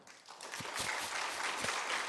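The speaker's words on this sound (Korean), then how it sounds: "박수 한번 쳐줘요." A church congregation at a retreat claps together, starting thin and quickly swelling into a full, steady round of applause that holds to the end, moderately distant in a large room.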